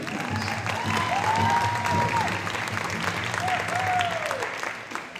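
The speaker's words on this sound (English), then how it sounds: "Give her a round of applause." Applause rises from the audience at a powwow held for the National Day of Truth and Reconciliation, with steady clapping that swells and eases while an announcer's amplified voice carries over the top.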